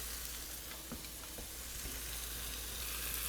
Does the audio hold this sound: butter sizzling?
yes